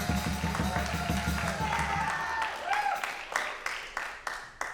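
An audience at a Texas jazz and blues camp masterclass breaks into applause, with scattered claps rising as the band's playing fades, amid voices.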